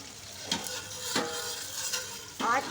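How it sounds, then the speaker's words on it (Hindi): Ginger and garlic hit hot oil over low heat in a curry pan, giving a soft, steady sizzle close by, broken by three sharp scraping stirs of a spoon against the pan. "इसमें अदरक लहसुन डाल देंगे।"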